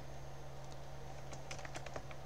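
Quick, light tapping on a computer keyboard at a laser engraving workstation, with a short burst of soft keystrokes over a steady low electrical hum, close and faint, with no voice.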